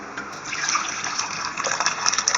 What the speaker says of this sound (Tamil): இதை நம்ம வந்து வேறு பாத்திரத்தில் ட்ரான்ஸ்ஃபர் பண்ணலாம்.